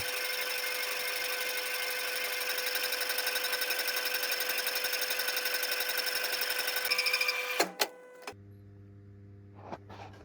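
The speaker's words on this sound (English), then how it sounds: "I machined the main locating bore for the cylinder" Machining the cylinder locating bore for a homemade engine on a machine tool, giving a steady, loud tonal whine with a rapid buzzing pulse that runs for about seven seconds, then cuts out into clicks and a lower electrical hum.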